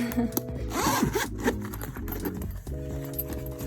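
A zipper pulled open around a Nintendo Switch carrying case, a close rasping zip lasting a few seconds over a steady background hum.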